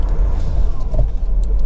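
A Honda CR-V 2.2 i-CDTi ES diesel five-door with about 147,000 miles runs with a steady, loud, low engine rumble throughout, alone without talk.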